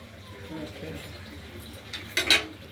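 A lid clatters onto a pot of simmering paneer and potato curry, a brief metallic clink near the end that follows quiet kitchen background noise.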